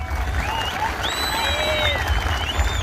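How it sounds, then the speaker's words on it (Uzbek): A crowd at a kurash wrestling event applauds wrestler Bekmurat Oltiboyev, with steady loud clapping and several shrill whistles rising over it. "Shu yigit sha'niga bir qarsak chalingizlar"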